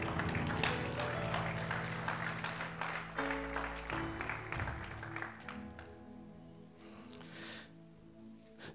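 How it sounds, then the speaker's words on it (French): A church congregation applauds and cheers for the Lord, sustained clapping and voices over music that gradually thins and fades toward the end. "Est-ce que tu peux acclamer le Seigneur?"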